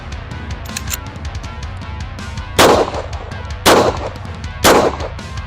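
Three loud, sharp Springfield XD-M pistol shots ring out about a second apart while the shooter moves, each a broadband crack with a short ringing tail over steady low background noise.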